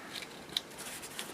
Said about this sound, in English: I'm just trimming round my corners